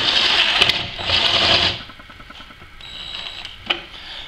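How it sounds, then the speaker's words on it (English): Self-tapping screw driven with a power driver into a Chevy Traverse body to make a ground for a trailer hitch wiring install, two close whirring bursts followed by quieter clicks and a short motor whine. "I just got a self-tapping screw, and I'm going to run that in there"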